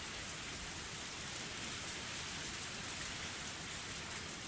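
Heavy rain pours down steadily, a dense unbroken hiss with no pauses, fairly soft and distant-sounding.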